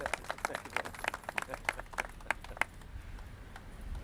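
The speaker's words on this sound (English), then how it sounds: "I want us to give him a great big round of applause" A small outdoor gathering in Louisville applauding Mayor Greg Fisher: a quiet patter of individual claps that fades to scattered taps after a few seconds.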